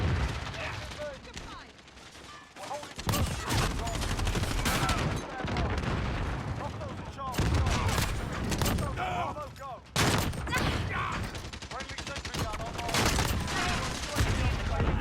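Dense, near-constant gunfire from the video game Call of Duty: Modern Warfare, with bursts of automatic weapons and heavier booms, loud and busy throughout with a couple of brief lulls.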